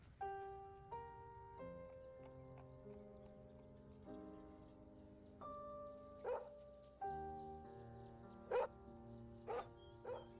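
A dog barks in a beer commercial about a team of horses, with a few short yips and clopping hooves under an instrumental music track.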